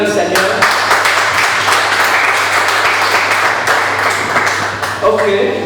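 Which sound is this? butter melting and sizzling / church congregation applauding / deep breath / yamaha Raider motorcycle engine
church congregation applauding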